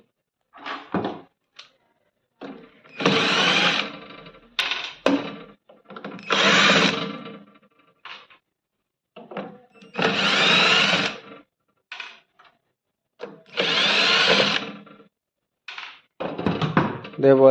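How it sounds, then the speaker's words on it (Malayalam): A power tool drives out the four screws of an air fryer casing in several whirring bursts of a few seconds each, separated by silences, close and loud. Someone speaks briefly between the bursts. "ഇവിടെ ഒരു നാല് സ്ക്രൂ ഉണ്ട് ആ സ്ക്രൂ കഴിക്കണം"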